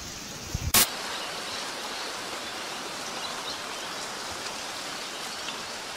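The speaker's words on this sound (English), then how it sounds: "the rain increased a little bit" Steady rain falls for the whole stretch, a dense even hiss, opening with a short sharp burst before settling into a constant downpour.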